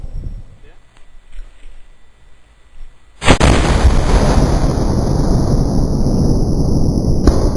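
A howitzer loaded with 3 ounces of triple FG black powder fires one very loud, sharp blast partway through, followed by a long roaring rumble and a noisy wash of sound; quiet movement precedes the shot.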